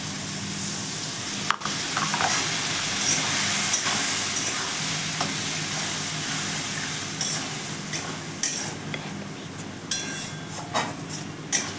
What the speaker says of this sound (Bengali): মশলা দিয়ে এবার একটু ভালো করে নেড়ে নেব, যতক্ষণ না তেল ছাড়বে ততক্ষণ আমি এটা একটু নেড়ে নেব